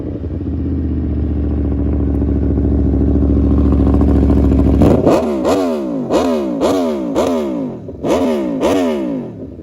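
Aprilia RSV4 1100 Factory superbike with a 1078cc V4, idling with a steady rumble before sharp repeated throttle blips rev the engine up and down in quick, loud, rhythmic bursts.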